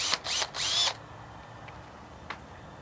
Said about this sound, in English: pre-drill your middle hole